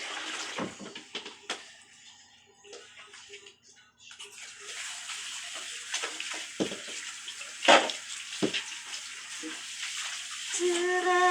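Dishes are washed under a running tap, with water splashing and plates and utensils clinking close by in irregular bursts, the flow growing louder near the end.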